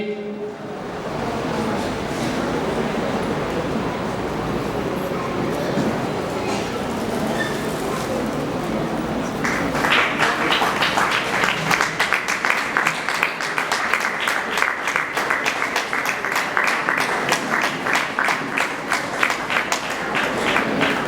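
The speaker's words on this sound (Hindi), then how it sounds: "तालियां" Applause breaks out at an inauguration ceremony in Badlapur, starting after a stretch of crowd murmur and talk and then continuing as steady, dense clapping from a large audience.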